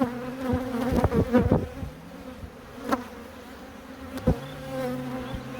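Honeybees buzz close by at an open hive, a dense wavering hum with several louder passes as individual bees fly near, and no talking.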